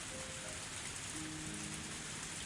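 Heavy game rain falling at a bus stop in Higurashi, a continuous even hiss of drops on surfaces with faint sustained tones beneath.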